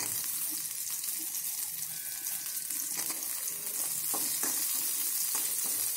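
Green chillies fry in a pan of oil for poha, giving a steady close sizzle and hiss with some light stirring clatter.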